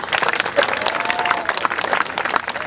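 Audience applause at a Calonarang performance in Bali, a steady dense clapping that carries through the whole stretch with crowd noise and voices mixed in.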